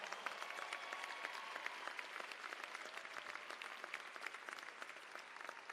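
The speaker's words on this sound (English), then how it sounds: "Let's give them a round of applause." Sustained applause from a large audience at a university commencement ceremony, dense steady clapping that carries evenly throughout without pause.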